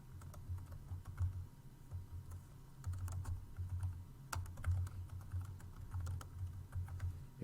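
Quiet, rapid clicking of keys on a computer keyboard, uneven bursts of typing close by with a low hum underneath.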